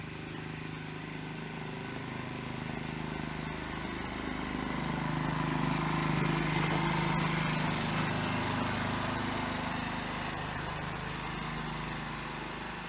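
A remote-operated lawn mower runs steadily nearby, its engine droning with a slight swell in the middle and no pauses or voices.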